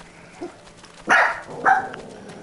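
Two short barks from a dog in a video game, loud and close, about half a second apart, over a quiet background with a faint yip just before.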